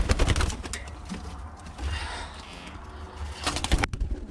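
Low cooing from Birmingham Roller pigeons in a loft, with light tapping and clattering bursts at the start and near the end, the birds' murmur continuing in between.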